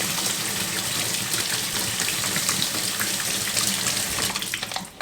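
Water pours steadily onto a small paddle wheel in a homemade hydropower experiment, a loud, continuous rushing splash like a running tap with no voices.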